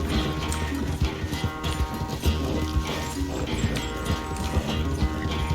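Hooves clip-clop in a steady galloping rhythm as a horse runs in Red Dead Redemption 2. The game sounds carry layered music and ambience, and the hoofbeats stay up front and loud.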